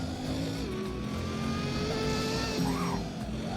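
A Bugatti Chiron in the Roblox game Driving Empire accelerates on a race straight, its engine tone climbing loudly and continuously with faint tire noise and no speech.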